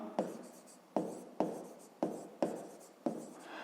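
Pen strokes on paper during a fifth-grade maths exercise, six distinct scratchy strokes in a steady rhythm, each a sharp onset tailing off, close and fairly quiet with no talk.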